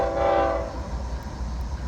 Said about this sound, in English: the CSX train is about to come around the corner